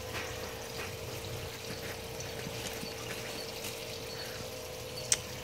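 Water runs from a garden hose into a cellar aquaponics grow bed, a faint, steady pouring trickle throughout, with a single small tick near the end and no voices.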